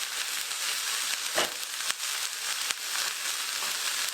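Burdock matchsticks frying in untoasted sesame oil in a pan, a steady bright hiss of sizzling with a few brief clinks and stirring knocks, close and moderately quiet.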